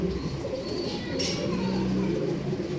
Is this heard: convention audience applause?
no